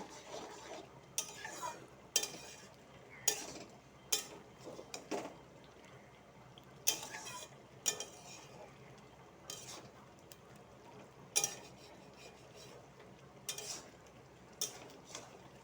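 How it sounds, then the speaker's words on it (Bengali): Mushroom curry masala with milk and curd being stirred in a pan, with a spoon scraping and clinking against the metal in irregular bursts over a quiet low background. "মশলাটা ভালো করে নাড়াচাড়া করবো"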